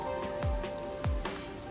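Rain falls steadily in the video game Rain Code, a soft continuous patter with a faint tonal hum and a couple of low thuds, with no voices.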